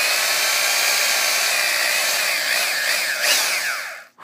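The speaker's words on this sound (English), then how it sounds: "drill perpendicular to the actual head of the bolt, the nut itself" A drill bores a starter hole into the flat head of a bolt, giving a continuous close-up whir with a grinding edge and a rising, wavering whine near the end before it stops abruptly.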